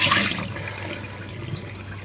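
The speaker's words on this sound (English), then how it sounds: "Thought it'd be interesting to just sieve it, just to see if anything gets caught up." Ten-year-old Cherry Coke poured through a sieve into a glass, giving a steady soft splashing trickle of liquid for about two seconds with no talking.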